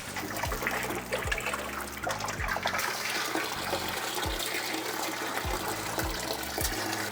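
Water gushing and churning as sand is rinsed in a 100-gallon aquarium tank for African cichlids, a steady loud rush with rhythmic low thumps from a pump or hose throughout.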